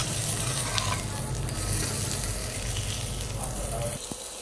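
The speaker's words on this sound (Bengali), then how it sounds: "তো যে কাঁচামরিচ আর পেঁয়াজ ভাজতেছি।" Green chillies and chopped onions fry in hot oil with a loud, dense, continuous sizzle close by. The spatter holds steady throughout, with a brief scrape or pop near the end.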